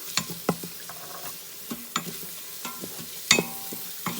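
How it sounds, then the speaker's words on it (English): Food sautéing in an Instant Pot with garlic powder and onion powder going in, a low sizzle broken by sharp scraping stir clicks and utensil knocks at an irregular pace, close by with no talk. "while these are sauteing"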